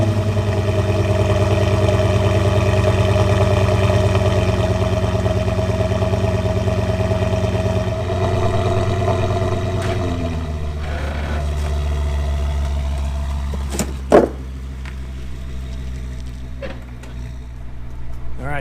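Audi S8 with an exhaust zip tie mod idling warm, a steady low rumble that holds close and loud throughout, settling slightly lower partway, with a brief sharp knock near the end.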